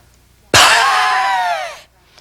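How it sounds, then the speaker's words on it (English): Forceful diaphragmatic exhalation pushed out through closed lips, a sudden loud breathy rush with a reedy wheezing whistle that holds for over a second and then tapers off, alone and close. "the exhale is going to be a diaphragmic exhalation. And it's going to sound a little bit like this."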